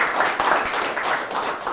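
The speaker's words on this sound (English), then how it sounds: "So I think they deserve a clap as well." An office audience at a grand opening event in Prague claps for the camera crew, steady close applause from a small group continuing throughout.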